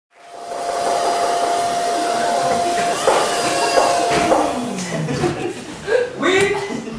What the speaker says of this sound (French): C'est quoi cet aspirateur là?